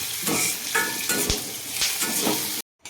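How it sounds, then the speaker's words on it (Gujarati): A spoon stirs a chilli and yogurt chutney mixture in a hot pan just after the gas is switched off, with steady close sizzling and scraping strokes before an abrupt cut. "આને હવે ગેસ બંધ કરી અને આને થોડી વાર હલાવી અને ઠરવા દઈશું"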